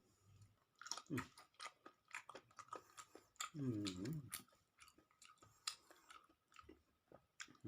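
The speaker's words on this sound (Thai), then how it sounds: "กรอบกรุบกรุบดีครับผม" Steamed octopus tentacles bought packaged from a Thai market being chewed up close, with crisp, crunchy bites coming in irregular bursts and a louder stretch of chewing in the middle; no speech.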